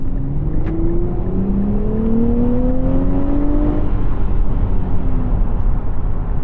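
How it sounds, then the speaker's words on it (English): A Nissan Z sports car accelerates at half throttle, its engine note rising steadily as a loud, close drone under heavy wind and road roar, with no talking. "that was only half throttle, and yeah, it goes good"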